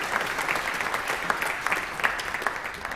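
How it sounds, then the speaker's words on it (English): Applause at a senior awards and scholarship program, a sustained crowd of hands clapping with scattered crisp individual claps, moderately loud and even for the whole stretch. "Give those folks a round of applause."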